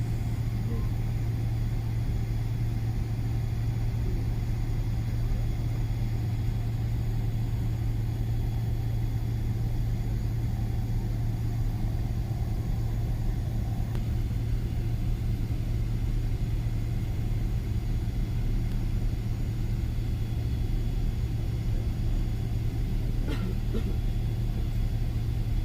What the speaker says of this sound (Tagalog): umandar na nga dyan sa mga oras na yan yung airplane